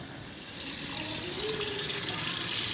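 Water from boiled orange peels draining into a kitchen sink, a steady rushing pour that swells slightly and stays close and continuous with no talking.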